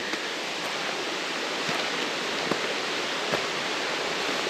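Creek water rushing at a trail crossing near Devil's Hole, a steady broad hiss of flowing water, close and continuous with no talk.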